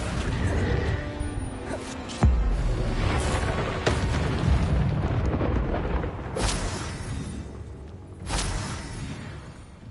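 Spell blasts in Hogwarts Legacy: booming explosive bursts and crashing impacts over a dense rumbling game soundscape, with several sharp hits standing out, loud and continuous, while a voice calls out spells.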